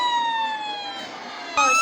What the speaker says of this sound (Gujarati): કારમાં લાગેલા સ્પીકરમાં એમ્બ્યુલન્સનું સાયરન સંભળાય છે